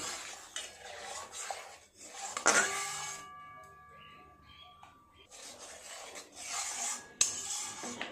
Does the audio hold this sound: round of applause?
no